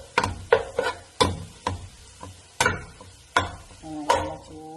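Onions with ginger and garlic fry in a small amount of hot oil, with crisp sizzling broken by repeated sharp knocks and scrapes of a spoon stirring in the pan, close and fairly loud.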